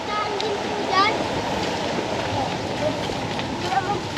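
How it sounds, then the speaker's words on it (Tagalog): A spring-fed stream runs with a continuous rushing, splashing flow close by while people talk and exclaim over it. "naagos yung tubig, oh. May bukal."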